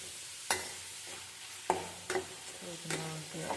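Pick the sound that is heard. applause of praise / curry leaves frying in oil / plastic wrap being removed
curry leaves frying in oil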